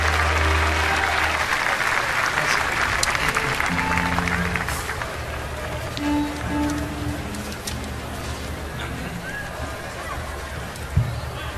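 Loud applause from a festival audience at Cosquín in Argentina, strongest at the start and gradually thinning, with a voice and faint musical tones over it.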